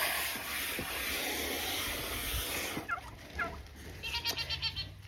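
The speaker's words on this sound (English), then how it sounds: "Lots of wild turkeys." A flock of wild turkeys on a farm in December gobbles outdoors, with bursts of calls rising over rustling background noise and a few sharp close sounds near the end.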